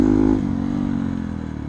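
A Hero XPulse 210 motorcycle rumbles close and loud as it is ridden, its engine note easing down steadily over a brief moment, with no talking.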